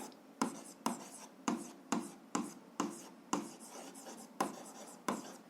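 Pen writing on paper while working an algebra exercise, a close series of about ten distinct scratchy strokes in a steady rhythm, each starting sharply and fading, in a quiet room.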